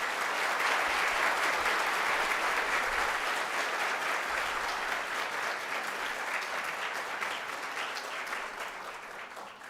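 An audience claps in welcome for a speaker at a talk, sustained dense applause from a large crowd that slowly tapers off over several seconds.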